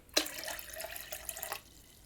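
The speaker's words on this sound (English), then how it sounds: "I'm gonna pour some of this water out because it's way too much" Water poured from a mason jar while a Monstera Albo Borsigiana is being potted, a close, steady splashing pour lasting about a second and a half before stopping.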